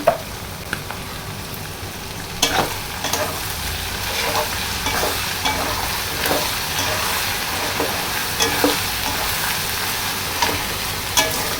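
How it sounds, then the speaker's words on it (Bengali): Ginger and garlic fry in a pan with onion and liver for a spiced liver bhuna, a steady close sizzle broken by repeated scraping stirs, with no talking. "এইখানে এখন দিয়ে দিলাম আদা রসুন"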